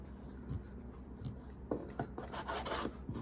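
A kitchen knife slices through rolled food resting seam side down on a cutting board, several short scraping cuts and light taps against the board, close and quiet with no talking.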